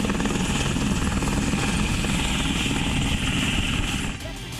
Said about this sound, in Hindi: दुनिया का सबसे खतरनाक अटैक हेलीकॉप्टर।